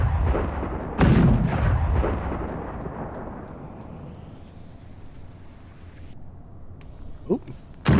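Heavy gunfire in a video game, a deep booming blast that rolls out and slowly fades over several seconds, followed by a faint whine and a second, sharper thump near the end.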